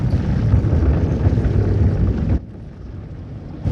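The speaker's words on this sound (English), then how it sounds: "More throttle and lift off. Elevate the aircraft, woman." A steady, loud broadband roar from the Me 163 Komet rocket aircraft builds as it throttles up for takeoff, a dense rushing blast that drops abruptly near the end.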